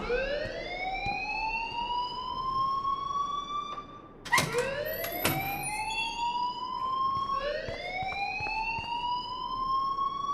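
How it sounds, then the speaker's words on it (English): An electronic school alarm from the video game Life is Strange wails in loud, rising sweeps that repeat every few seconds, with a few sharp clicks and knocks breaking in partway through. "please turn off that alarm since that's your job"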